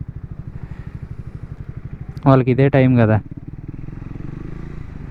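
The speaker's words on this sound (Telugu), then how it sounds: "ఎగ్జాస్ట్లు మార్పించి ఇంజన్ ట్యూన్ చేసి భలే వస్తారు బయటికి ఈ టైంలో" A motorcycle with a modified exhaust and tuned engine idles at night with a fast, steady, throbbing putter, close by, while someone talks briefly over it.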